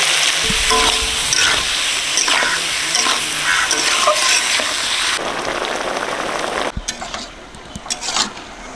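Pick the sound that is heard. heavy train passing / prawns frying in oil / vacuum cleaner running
prawns frying in oil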